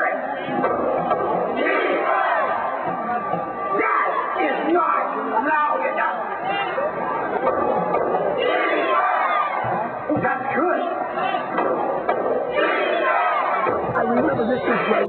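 A large crowd roars and chants "defense" together in a loud, continuous wall of voices, echoing as if in a packed stadium.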